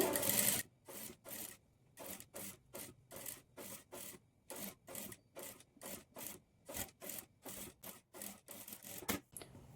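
Sewing machine stitching blouse pieces in short, regular bursts of running stitches, each separated by a brief pause, close and fairly loud with no talking.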